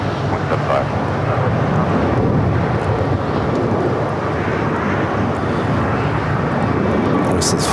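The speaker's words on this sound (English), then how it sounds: "This is Flores flight going around." An airliner going around at LAX makes a loud, steady broadband engine roar that fills the whole stretch, with no clear rise or fade.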